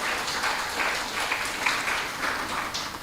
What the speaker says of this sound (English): could you all give them a round of applause as I call?